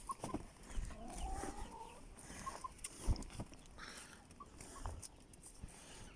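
Chickens near their coop on a snowy day cluck softly and intermittently, with scattered short calls against a quiet outdoor background.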